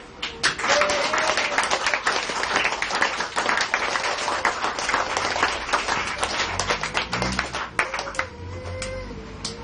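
A church congregation claps together in a lively, sustained burst, dense hand claps rattling steadily for nearly ten seconds with a few voices rising faintly underneath.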